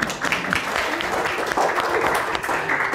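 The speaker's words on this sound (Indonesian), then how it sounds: "kita beri tepuk tangan sama Sandi" Classroom applause for three students, Sandi, Alfiana and Riyadatul, during a teaching session: steady clapping from a group fills the whole stretch, close and fairly loud, with a few faint voices mixed in.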